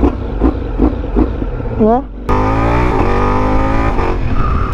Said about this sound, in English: Stock pipe siya. Pero grabe yung tunog niya. Para na siyang nakapipe.